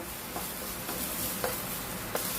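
Tomato frying in a pan while being stirred, a soft steady sizzle broken by a few light scraping knocks of the spoon, close and fairly quiet.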